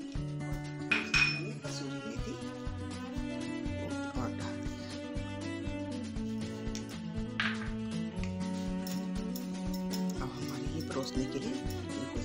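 Paneer do pyaza is served from a pan onto a plate, with light clinks and scrapes of a utensil against metal and dishware, fairly quiet, over soft kitchen background.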